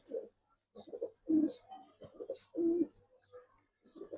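Giribaz coloring pigeons cooing close by in repeated soft, throaty bursts with short pauses between calls.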